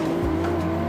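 In an Xbox racing game, a manual BMW 1M drifts with a loud, steady engine drone and continuous tire squeal, one brief, sustained burst with no talk.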